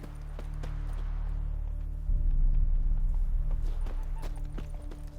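Roach, a horse in The Witcher 3, gallops with a steady clip-clop of hooves that grows louder and heavier partway through, over a low continuous rumble of game ambience.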